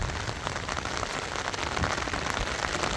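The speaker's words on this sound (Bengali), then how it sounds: "সকাল সকালই প্রচুর বৃষ্টি হচ্ছে।" Heavy morning rain pours onto a rooftop as a dense, constant hiss of drops, close and even throughout with no voices.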